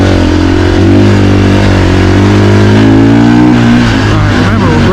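Husqvarna FE450 motorcycle, a 2024 model being broken in, revving hard with a loud, close engine note that holds steady harmonics and rises and dips under the throttle throughout.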